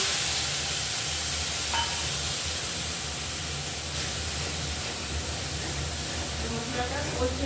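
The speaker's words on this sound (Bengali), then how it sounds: "এবার আমি মশলাটা দিয়ে দিচ্ছি।" Spice paste sizzles steadily in a hot pan for a spicy Bengali fish curry, a constant loud frying hiss lasting throughout with no talking.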